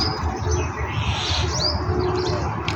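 A parrot outdoors gives a few brief, high chirping calls over a loud, steady low rumble of background noise.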